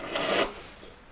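A jeweller's flat file rasps over a filed metal piece to neaten it, giving a brief close scraping stroke that fades away, with no talk.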